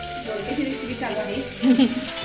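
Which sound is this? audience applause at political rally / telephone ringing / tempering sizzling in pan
tempering sizzling in pan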